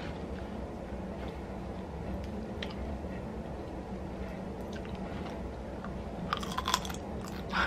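Close-up chewing and crunching on boiled blue crab, snow crab and crawfish from a seafood boil, steady wet mastication with occasional sharper shell cracks toward the end, heard alone without talk.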